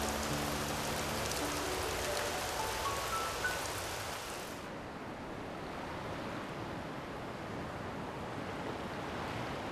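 Steady rain hisses down in a dense wash, joined early on by a faint rising run of soft tones that stops partway through.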